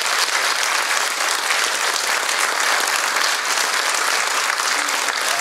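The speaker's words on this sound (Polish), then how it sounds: "Brawa dla nich!" A concert audience gives loud, dense, sustained applause for a group of young female singers from a cultural centre, the clapping heard close and unbroken.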